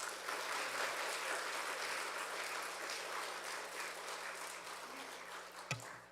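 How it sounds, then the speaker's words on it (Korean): A congregation in a Korean church claps to welcome a pastor to the pulpit, a fairly quiet, steady wash of applause that continues evenly and tapers slightly, with one brief knock near the end. "목사님 나오실 때 큰 박수로 한번 환영해 주시면 감사하겠습니다."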